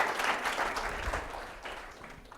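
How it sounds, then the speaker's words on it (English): Audience at an investor seminar giving a warm round of applause, dense steady clapping throughout, moderately loud and slowly easing off. "can we have a very warm round of applause for Mr. Stu Miller?"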